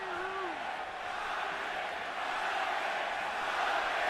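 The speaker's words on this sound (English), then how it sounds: "And now the crowd begins to chant for Pacquiao." A large boxing arena crowd chants for Pacquiao at the Pacquiao vs Marquez III fight, a loud, continuous roar of massed voices with rhythmic chanting rising out of it.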